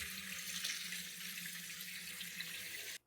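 Dried beans rinsed under a running kitchen tap, a continuous hiss of water pouring into a sink that stops abruptly at the very end, with no voices.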